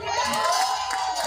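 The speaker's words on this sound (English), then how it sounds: "Let me hear you applaud Tamarie Comrie," Graduation audience at a high school ceremony applauding and cheering for a graduate, a loud, dense crowd roar with clapping and whoops filling the short stretch.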